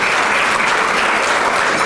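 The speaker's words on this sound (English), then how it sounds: "And you can clap that they're women." An audience at a conference panel applauds in a dense, steady wash of clapping that fills the whole moment without a break.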